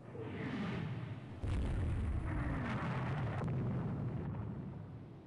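A ship's magazine detonates during a naval battle in Rule the Waves 3, a heavy, loud boom that bursts in and rolls on as a sustained roar before tapering off.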